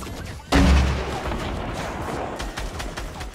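Grenade launcher explosions in Fortnite, beginning with a sudden loud booming blast and followed by a dense, rumbling stretch of further detonations and gunfire-like bursts.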